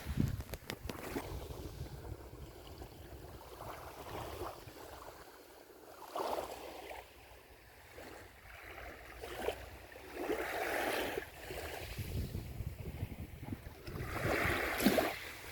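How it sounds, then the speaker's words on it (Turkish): Wind gusts across the seaside while waves wash and break along the shore, faint and uneven, swelling and easing over several seconds with microphone buffeting in places. "Biraz da sizlere deniz kenarını seyrettirmek istiyorum."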